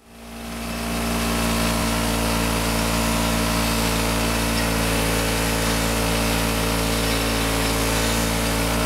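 Power tool running steadily while polishing motorcycle parts, spinning up from quiet to a loud, constant whine and drone that holds unbroken for the full length, with no voices.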